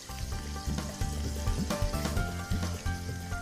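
Finely chopped onion frying hard in a pan with ginger-garlic paste, a dense continuous sizzle and crackle close by, with occasional stirring scrapes and no talking.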